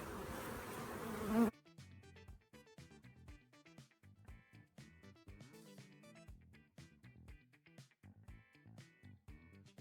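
Honeybee foragers returning to the hive in the afternoon or evening, many insects droning and zipping past close by in a busy, continuous hum after a brief burst of noise.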